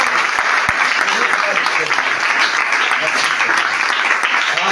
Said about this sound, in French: Est-ce que nous pouvons donner une acclamation